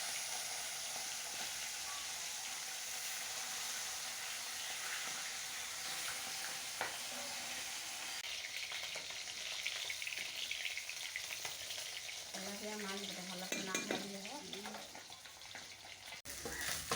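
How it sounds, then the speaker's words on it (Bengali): Tilapia fish frying in oil in a pan, a steady close sizzle with stirring and faint kitchen clatter throughout. "মাছগুলো ভেজে নেবে।"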